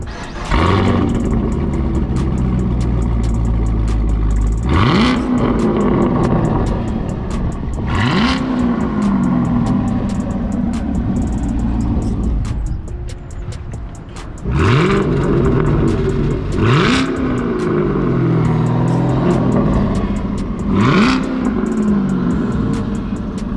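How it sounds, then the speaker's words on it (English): A Chevrolet Camaro 2SS with an aftermarket exhaust revs repeatedly, each throttle blip rising and falling in a throaty surge, with short pauses between the bursts and a steady idle underneath. "But yeah, this is how my exhaust sounds now."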